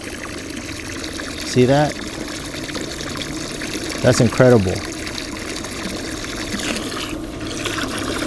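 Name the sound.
SMARTBOT 4200 GPH utility pump pumping out water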